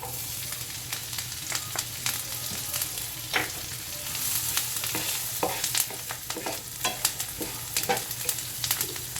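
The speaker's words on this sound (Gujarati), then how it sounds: "હવે સિંગદાણા બધા નાખી દઈશું. આને શેકી લેશું હમાય." Peanuts roast in a pan for sabudana vada, a continuous soft sizzle broken by repeated scraping stir strokes and light rattling of the nuts, close by and with no voices.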